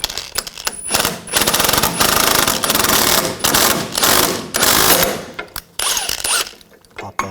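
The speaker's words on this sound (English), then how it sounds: "I'm going to use a front end tool, a puller, just to separate the ball joint from the control arm." Puller tool working on a 2000-2006 BMW X5 front lower ball joint, separating it from the control arm: loud, rapid clattering mechanical bursts with brief pauses, close up and alone.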